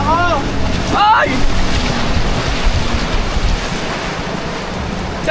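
Rushing water and wind roar steadily around a small wooden passenger boat on a strong river current. A person shouts briefly near the start, and the churning wash continues alone after that.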